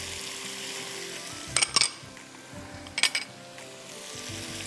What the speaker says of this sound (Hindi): और साथ में आप इसको सौटे कर दीजिए इस तरह